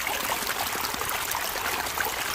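Water flows over rocks in an East Texas creek, a continuous close rushing and trickling sound, steady and fairly loud, with no voices.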